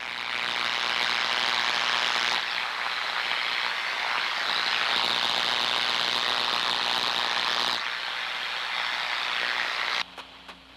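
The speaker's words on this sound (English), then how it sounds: "This is the actual sound of destructive high-voltage corona at a severe stage." Severe high-voltage corona discharge picked up by an ultrasonic probe, a dense continuous sizzling buzz with a steady hum beneath, loud and unbroken for about ten seconds before cutting off abruptly.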